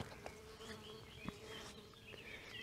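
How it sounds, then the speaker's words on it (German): Mosquitoes and flies buzzing outdoors in close, faint, continuous whines that rise and fade, with soft background noise. "Ja, es sind ganz schön viele Mücken hier."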